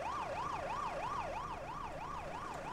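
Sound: siren in the bus simulator video game OMSI

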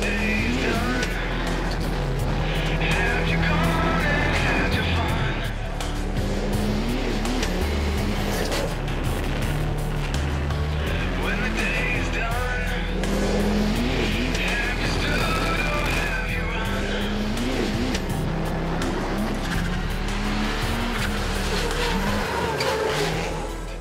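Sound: Sebastien Loeb driving a rallycross race car on track

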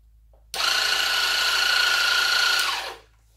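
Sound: Dremel Moto-Saw running

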